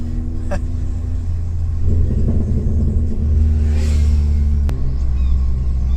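Seat Leon Cupra stage 2 tuned to about 400 horsepower, in Cupra mode with the throttle fully open: a loud close engine rumble that swells into a rev partway through, with a brief sharp click near the end.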